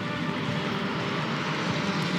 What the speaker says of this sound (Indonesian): Saat ini parade pesawat terbang masih berlangsung